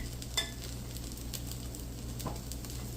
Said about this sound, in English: And I'm going to cook 2 on the pan, although you can do more.